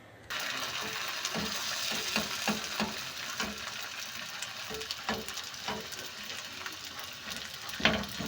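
Batter sizzles in an oiled non-stick pan as a continuous, even frying hiss, with occasional light scrapes and taps as it is spread, heard close and alone.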